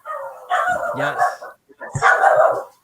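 Rat terrier and Chihuahua mix dogs bark in two sharp, loud clusters of yips and bow-wows, with a person speaking briefly.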